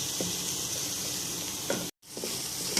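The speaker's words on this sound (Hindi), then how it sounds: "अब हम इसके अंदर 2 दरमियाने साइज की प्याज ले ली थी, जिनको हमने ग्राइंड कर लिया था, वो ऐड करेंगे और इसको अच्छे से फ्राई कर लेंगे।" Ground onion fries in hot oil in a pan for chicken kofta curry, making a steady close sizzling hiss with a few stir knocks and a brief dropout near the end.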